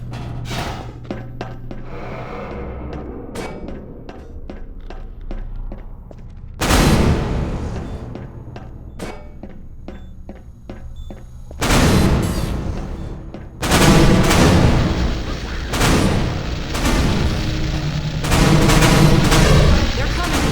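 Turret gunfire rattles in the Half-Life 2 video game, with dense bursts of rapid shots that swell loud and close in the later half over a steady background of game sound.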